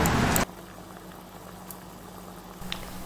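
Coconut milk mixture with crushed cardamom bubbling as it simmers and reduces in a pan, a faint soft patter of boiling after a short loud burst at the start.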